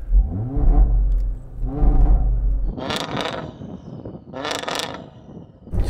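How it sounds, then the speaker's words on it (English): A BMW M5 tuned to about 1,000 hp blips its raspy exhaust in revving bursts, a deep rumble followed by two sharp higher-pitched rev spikes, loud and close with no talking. "I might be able to send out a signal to you in the form of my raspy exhaust"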